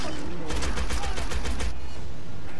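Rapid automatic gunfire from a weapon in the co-op survival video game How To Survive, a dense burst of shots lasting about a second, fairly loud over game background noise.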